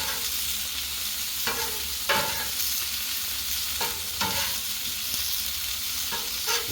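Onions and peppers sizzle steadily on a Blackstone griddle, a constant hiss broken by periodic scraping strokes of a spatula as the vegetables are stirred and turned, with no talking.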